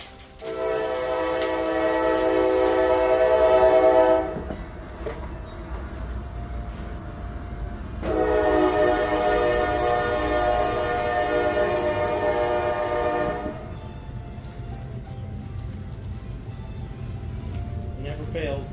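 A train rumbles past with loud, sustained horn-like blasts that sound twice, separated by a quieter stretch, over a steady low rolling noise.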